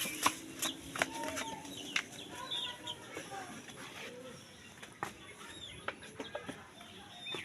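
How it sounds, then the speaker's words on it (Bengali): Young tiger-breed chickens clucking and chirping while eating, scattered near calls with occasional sharp peeps and a flutter of wings. "মুরগিগুলা খাওয়ার জন্য খুব হয়েছে"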